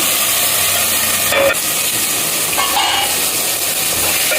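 Tomatoes cooking under a lid in a pan for gongura chicken curry, a steady close sizzle and steamy hiss with a couple of brief clinks or stirring bumps and no talking.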